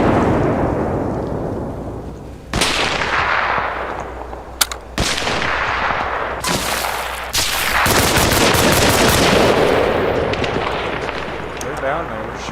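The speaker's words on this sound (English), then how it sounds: "They're down there, they're shooting at me." Arma Reforger gunfire rolls through a PC firefight: heavy rumbling shots and sharp cracks arrive in bursts, with several loud reports near 2.5, 5 and 7.5 seconds over a steady bed of combat noise and voices talking.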